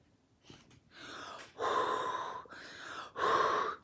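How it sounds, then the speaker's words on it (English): Someone breathing onto a rubber stamp to moisten it: a short intake followed by several long, airy exhalations in a steady rhythm, close up and fairly soft with no talking. "Then we have to breathe on it."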